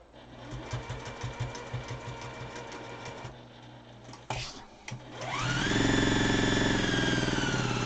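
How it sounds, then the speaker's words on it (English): A home sewing machine stitches fabric for face masks, first in short rhythmic bursts, then after a pause and some handling noise it runs up into a steady, loud continuous hum. "My sewing machine was not happy with that needle at all."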